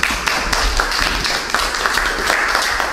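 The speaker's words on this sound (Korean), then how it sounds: "박수 한번 보내시기 바랍니다." Audience applause at a small chamber music concert, a dense, steady wash of clapping that fills the whole stretch without a break.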